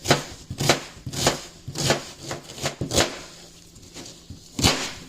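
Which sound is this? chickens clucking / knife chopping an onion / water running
knife chopping an onion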